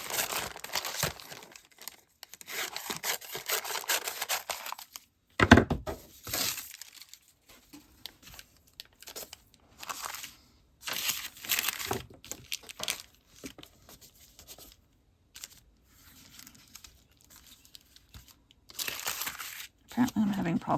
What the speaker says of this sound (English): Apparently I'm having problems sticking this to the deli paper.